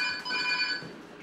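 A telephone ringing, heard as a steady bright electronic trill with several stacked tones sounding continuously over a quiet room background, without any voices.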